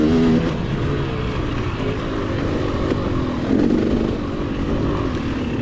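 Dirt bike engine revving hard and steady while racing through thick, deep sand on a hare scramble course, loud and close, with throttle surges throughout.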